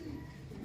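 A young pigeon gives a short, soft coo, close and low, in a brief burst with faint background noise.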